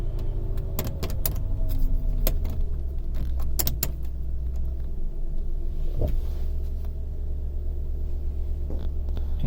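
A 1993 Lincoln Town Car V8 accelerates, its engine giving a steady loud low rumble heard from inside the car, with scattered clicks and ticks over the drone.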